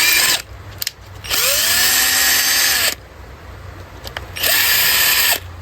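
A power drill drives a screw into an electrical convenience outlet in several bursts, the motor whining up and stopping between runs, close and loud.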